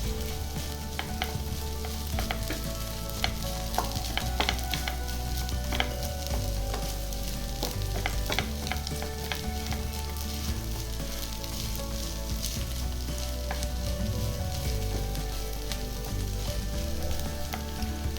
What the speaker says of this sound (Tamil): வெங்காயமும் உருளைக்கிழங்கும் நல்லா வதங்கினோடனே எல்லாம் ஒன்று சேர்ந்து வருது